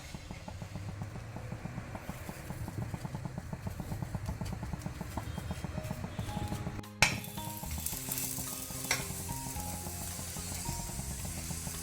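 Radish paratha cooks in ghee on a hot pan with a close, steady sizzle and crackle, interrupted partway by a sharp scrape or flip before the frying hiss resumes.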